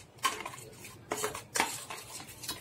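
A metal spoon stirring fish pieces with mustard oil in a bowl for hilsa paturi, a few sharp clinks and scrapes against the dish, close and quiet.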